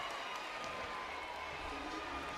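A home crowd cheers at a Kansas State women's volleyball match against San Diego in the NCAA first round, a broad, steady roar of voices and applause that stays at an even level throughout.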